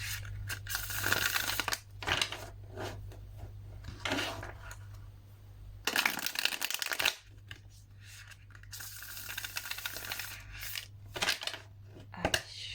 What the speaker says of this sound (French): J'aime bien faire 3 brassages